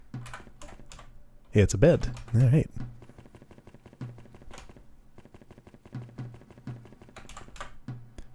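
Computer keyboard arrow keys pressed during play of the game Counterhero, heard as repeated light clicking taps in short clusters, with a person talking briefly over them.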